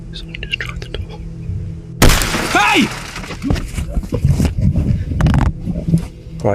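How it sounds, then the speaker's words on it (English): Glass in the passenger side window of a parked van shatters at night, a sudden loud close burst breaking a near-silent interior, followed by someone shouting and rustling movement. "witnessing the glass of his passenger side window shatter into pieces"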